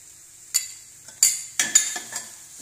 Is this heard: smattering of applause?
no